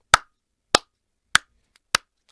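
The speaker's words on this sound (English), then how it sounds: "Y'all clap it up for Willie right there." Four sharp, evenly spaced hand claps, close and dry, about half a second apart, with silence between them.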